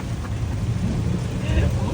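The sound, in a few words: heavy rain with thunder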